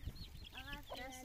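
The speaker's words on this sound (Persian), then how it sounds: "جوجه، جوجه برای تو آوردم، جوجه شیرین با مزه." Chickens clucking and chirping close by at a nomadic family's mountain homestead, a short burst of several overlapping calls over faint low rumble and handling noise.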